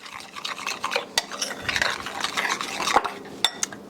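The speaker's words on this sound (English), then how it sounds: "mix that together good." A spoon stirring sour cream through a bowl of pea salad: wet, squelchy mixing strokes with a few sharp clinks of utensil against the dish, close and fairly quiet, no voices.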